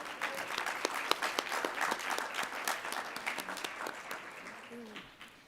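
Sustained audience applause at an awards ceremony, a dense crowd of clapping hands that stays steady and then begins to thin and fade toward the end, with faint voices underneath.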